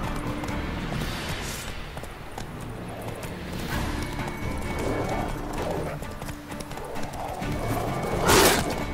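Roach the horse in The Witcher 3 gallops with continuous clip-clopping hooves and lets out neighs, near and steady, layered over game ambience, with a louder burst near the end.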